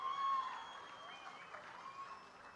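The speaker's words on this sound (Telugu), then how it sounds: "వాళ్ళిద్దరిని కూడా గట్టిగా చప్పట్లు కొట్టి అభినందించండి" An audience at a farmers' event claps in steady, faint applause that sounds distant and spread out, with a low murmur of voices underneath.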